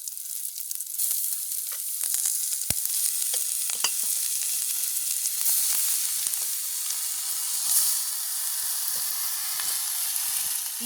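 Mushrooms frying in a village kitchen pan, a loud, steady high sizzle with scattered crackles and spits, close and continuous with no talking.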